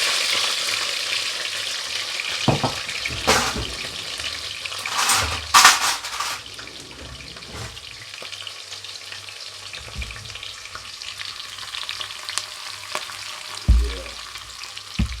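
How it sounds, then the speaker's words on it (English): Seasoning, a piece of hot pepper, sweet pepper and onion fry in a pot for a Jamaican-style vegetable dish, giving a steady close sizzle with scattered stirring scrapes and occasional clanks. "Let them go and fry up."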